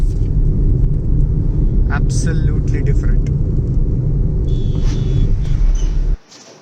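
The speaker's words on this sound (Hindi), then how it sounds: "वाह, इतनी खाली रोड पे गाड़ी चलाने का मज़ा अलग है।" A car cruises along an empty road, its steady low engine and road rumble droning loudly from inside the cabin while someone speaks briefly, before the sound drops away abruptly near the end.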